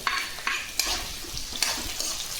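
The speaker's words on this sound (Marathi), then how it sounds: "आपलं कांदा मिरची आणि बटाटा चांगलं बऱ्यापैकी शिजत आले आता टोमॅटो टाकून देते" Onion, chili and potato frying in a pan as tomatoes go in, with a steady broadband sizzle and a few sharp stirring scrapes spaced through it, close and moderately loud, no talk.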